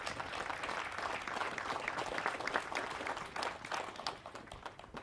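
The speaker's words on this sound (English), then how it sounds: "Let's give these gentlemen a round of applause." Steady, dense applause from a large outdoor audience at a military pass and review ceremony for university cadets, sustained throughout at moderate distance.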